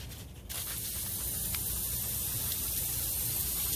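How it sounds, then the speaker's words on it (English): Parts cleaner blasts from an aerosol can onto a manual transmission part from a 2011 Subaru Outback, a steady loud hiss starting abruptly and continuing without a break. "part 2 of blasting this sucker with the parts cleaner"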